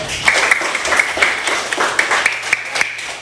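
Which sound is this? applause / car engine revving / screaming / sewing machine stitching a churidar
applause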